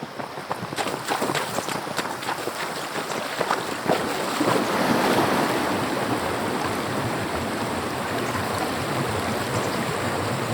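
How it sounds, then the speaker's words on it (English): Broadband rushing river water flows continuously, a dense hiss and splash that swells slightly partway through and stays loud and steady throughout. "Okay, this is a river. This is River Swim. This is River Swim playing."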